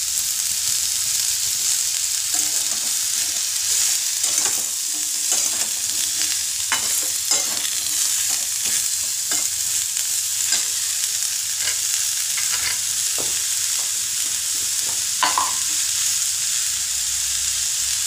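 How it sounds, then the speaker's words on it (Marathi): Pumpkin slices fry in a pan over a low flame with a steady hiss, while a spatula stirs and scrapes through them in scattered taps and scrapes, close and even throughout, with no one speaking. "आणि आता भाजी टाकून द्यायची. डांगराची काप छान मिसळून घ्यायचं."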